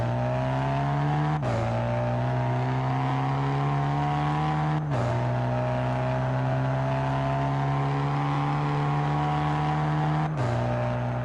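Tuned BMW with a Riley tune accelerating flat out through its gears toward top speed, loud steady engine roar rising in pitch with three sharp gear shifts, close and continuous with no talk.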